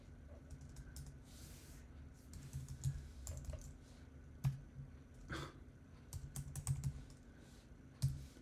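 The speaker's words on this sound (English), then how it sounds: "I feel like David over here playing with my keyboard while you guys are watching me." Rapid, uneven clicking of keys on a computer keyboard, close and fairly quiet, with irregular bursts and a few louder strokes over steady room hum and no speech.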